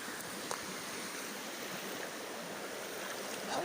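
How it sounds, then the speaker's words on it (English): The Pienaars River near Pretoria, running at normal level rather than in flood, rushes in a steady broadband wash with small splashes, heard up close and without any talk. "I am now standing in the river."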